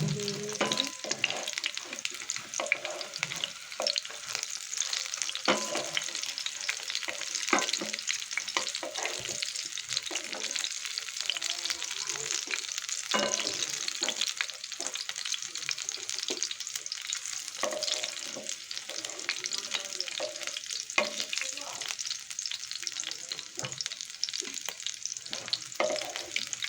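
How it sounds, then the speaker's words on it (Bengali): Pointed gourd fritters crackle and sizzle steadily in hot oil for the whole stretch, with scattered louder pops and occasional soft stirring scrapes, close by and with no voices. "এভাবে আমি সবগুলা ভেজে নিয়েছি।"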